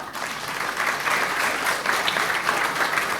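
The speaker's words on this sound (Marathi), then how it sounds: "एकदा जोरदार टाळ्या." An audience at the Maharashtra Business Conclave 2024 applauds to welcome the chief guests, a dense, continuous round of clapping from a large crowd that holds steady for several seconds.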